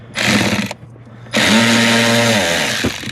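A loud, heavily used ratchet wrench in need of grease, worked during a blower motor replacement on a 2016 Dodge Durango, comes in two bursts of rapid, harsh clicking close to the listener, with a brief pause between them.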